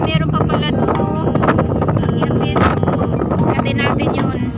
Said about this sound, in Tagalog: Ang hangin, guys.